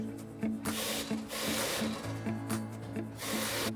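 A machine cuts foam in a bedding factory on Réunion, making rhythmic rubbing, rasping strokes that repeat about every half second and carry a faint tonal hum underneath, up close and steady.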